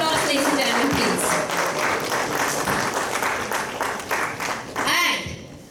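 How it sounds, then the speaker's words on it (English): A crowd at a corporate stage event breaks into sustained, loud applause as guests are welcomed onto the stage, with steady clapping throughout and a voice briefly speaking near the end. "With your round of applause, ladies and gentlemen,"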